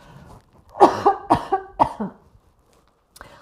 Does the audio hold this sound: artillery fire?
no